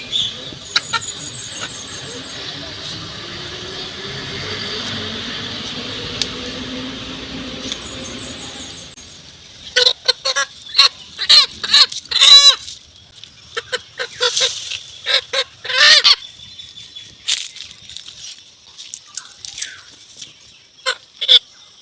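A chicken being slaughtered squawks and squeals in rapid, frantic bursts, close and loud, following a stretch of steady background whine and chirping.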